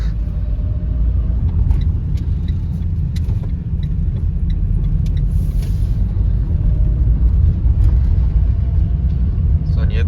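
Renault Twingo on a test drive over a rough, uneven German road, a steady loud rumble of tyres and engine heard from inside the car, with scattered faint knocks and rattles throughout.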